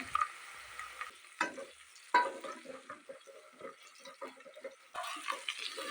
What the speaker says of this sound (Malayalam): അതിൻ്റെ പച്ചമണം ഒന്ന് മാറുന്നത് വരെ വഴറ്റിയെടുക്കാം